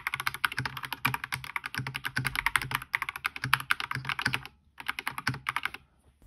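Rapid, clacky keystrokes rattle on a stock DrunkDeer G65 gaming keyboard in quick irregular bursts, hollow, plasticky and pingy, pausing briefly before a few final taps.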